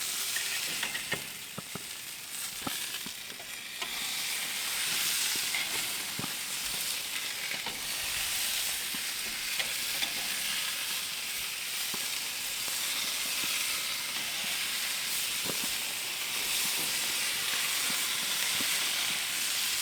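Hamburger patties sizzle steadily on grill grates, a dense continuous frying hiss held at an even loudness with small scattered pops and crackles throughout, no talking.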